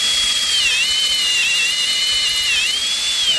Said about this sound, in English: she definitely did drill through the bolt